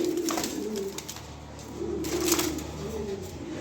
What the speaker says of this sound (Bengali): কবুতর নাচানাচি করতেছে আজকা